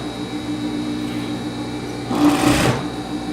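A sewing machine stitching a 1.5 cm seam around a double-faced coat, its steady rapid motor hum and needle chatter running throughout, swelling louder for a brief burst near the end, with no one talking.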